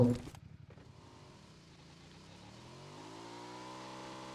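A video game vehicle pulls away with a rising, revving engine that builds steadily after a brief burst of sound at the start, fairly loud and continuous, with no voices.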